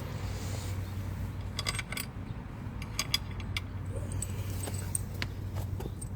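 Metal washers clink and jingle in short bright bursts near the middle, set against a steady low hum while two washers are fitted during saddlebag installation on a 2023 Honda Rebel 500.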